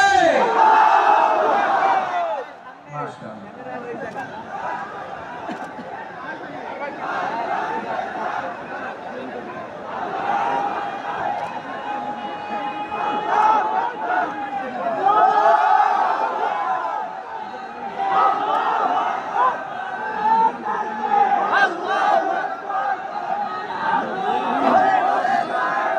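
A large crowd at an outdoor Islamic religious sermon chants takbir in loud unison, a roaring mass of voices that rises and falls in repeated waves over about half a minute.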